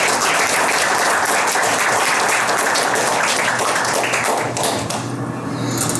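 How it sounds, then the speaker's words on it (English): Audience applause at a veterans' recognition panel event, loud dense clapping from a room full of people, steady for several seconds before thinning out near the end. "A hand of round of applause for Lewis Arthur."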